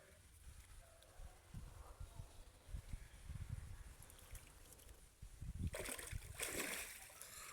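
Cattle bathe and wade in water, giving irregular faint splashes and sloshing, with a burst of brighter splashing toward the end, heard from a short distance outdoors.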